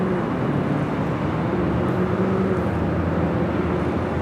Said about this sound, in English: It's an A321 Neo.